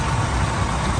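A 1968 Chevrolet K20 truck engine with a manual choke idles steadily, a continuous low rumble with no talk over it.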